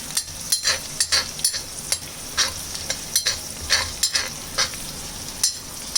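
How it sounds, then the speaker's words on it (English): Chicken stew ingredients for a Kerala Syrian Christian style stew sauté in a pan, with a spoon scraping and stirring in regular close strokes over a steady sizzle, with no talking. "Saute it."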